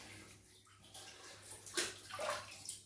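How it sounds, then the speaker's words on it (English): Water splashed onto the face before shaving, a couple of soft sloshing splashes over a running tap hiss, close and quiet. "Okay, let's wet the face."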